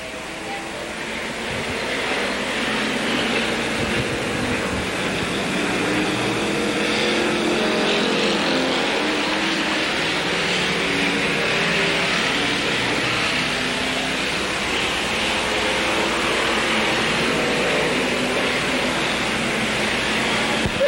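Sportsman division race cars under green in a 1985 dirt-track semi-feature at Capital, a steady distant roar of several engines droning together for the whole stretch, with faint commentary beneath.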